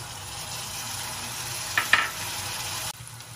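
Onion paste frying in a pan for a Bengali chitol fish kofta curry, a steady close sizzle with a couple of sharper crackles near the end before it cuts out.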